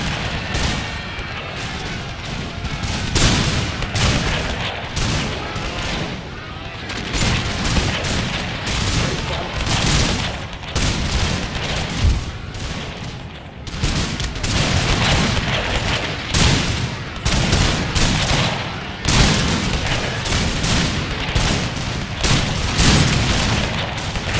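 Musket volleys crackle and boom continuously in the strategy game Napoleon Total War with the Zulu mod, loud overlapping rounds of gunfire rolling on without a break.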